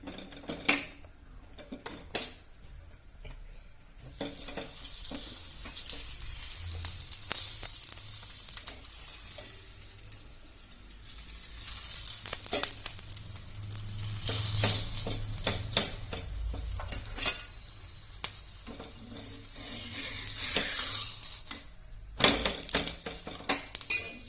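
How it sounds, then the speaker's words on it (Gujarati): Carrot and cabbage parathas frying in hot oil on a griddle, a soft continuous sizzle broken by sharp clinks and scrapes of a spatula against the pan, with louder bursts of sizzling as the flatbreads are pressed and turned. "તો હવે આપણે પરોઠા વણાઈ ગયા છે, તો તળવાનું ચાલુ કરશું."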